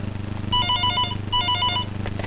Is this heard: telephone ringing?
yes